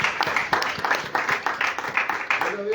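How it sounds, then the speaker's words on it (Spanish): A church congregation in Barva, Heredia, Costa Rica breaks into loud, sustained applause, with dense rhythmic clapping that stays steady and close throughout. "Y fuerte aplauso a él, iglesia."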